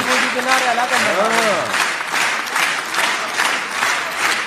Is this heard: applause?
yes